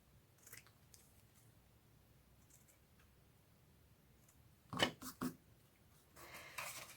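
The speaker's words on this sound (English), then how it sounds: "trim a little bit of that ribbon off" Scissors trim a strip of ribbon on a Stampin' Up! treat pouch, giving a few faint ticks and then two sharp close snips followed by a soft rustle of paper.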